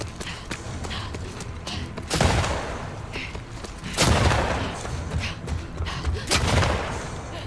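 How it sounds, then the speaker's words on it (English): Gunfire in The Last of Us Part II during a sniper fight, with three heavy booming shots spread over several seconds above a constant rumbling background of combat noise. "He's shooting at us, man."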